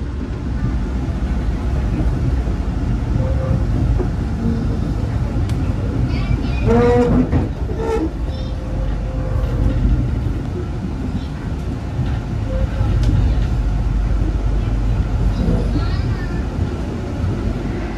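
Argo Semeru executive express train running on the southern line between Solo and Yogyakarta, a continuous low rumble of wheels and carriage, heard from inside with some clanks and squeals partway through.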